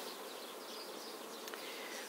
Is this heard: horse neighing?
no